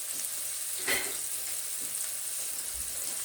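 Salmon frying in a pan, a steady close sizzle with one brief scrape of a spatula turning the browned piece, no voices.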